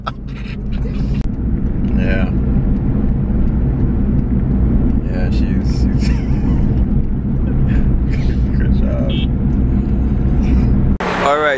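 A car drives along a road in Jamaica with a steady, loud engine and road rumble throughout. Voices talk over it now and then, and a sharp burst of noise comes near the end.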